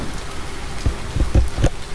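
Rain falls in the video game Finding Paradise, a steady patter with several heavier low thumps that read like thunder or large drops, heard alone with no talk.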